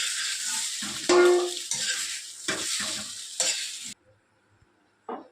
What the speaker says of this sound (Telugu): ఇలా 2 సైడ్లు బాగా ఫ్రై చేసి పెట్టుకోండి